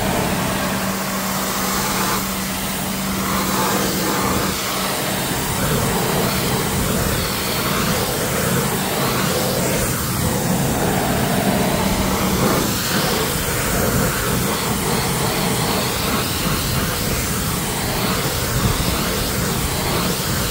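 Pressure washer spray rinses a multispoke car wheel and its wheel arch, a loud, continuous close-up hiss and rush that holds steady throughout with no pauses and no voices.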